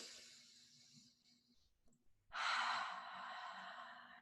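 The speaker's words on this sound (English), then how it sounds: "And now we're going to take a deep breath together." A person takes a slow, deep breath during an anxiety tapping exercise, a soft inhale followed after a short pause by a long, louder, airy exhale close to the microphone.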